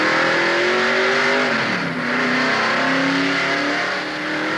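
A 1978 NASCAR Winston Cup stock car at Darlington Raceway revs loudly and steadily, its engine pitch climbing, dipping briefly, then rising again with no voices over it.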